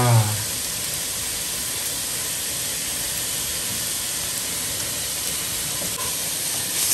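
Garlic hits hot oil in a pan with a brief burst, then a loud, steady, broadband sizzle hisses on unbroken and close.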